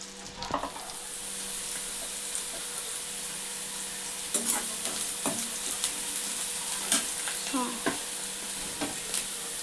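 Thinly sliced onion and green chilli fry in oil with a steady close sizzle, punctuated by several sharp spatula scrapes and taps against the pan. No one speaks.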